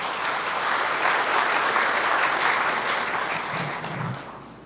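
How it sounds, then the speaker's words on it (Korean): Sustained applause fills a Labour Day ceremony hall, a steady dense clapping from a large audience that swells early and tapers slightly toward the end. "여러분 다시 한번 박수 부탁드립니다."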